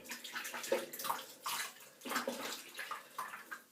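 Water splashes and runs in bursts while a shaving brush is rinsed and washed at a sink, close and fairly steady with repeated swishing pulses and no talk.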